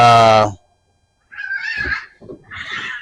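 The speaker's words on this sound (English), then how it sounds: "cat fight." Cats fighting nearby: a loud drawn-out yowl, a short silence, then two rough bursts of hissing and spitting.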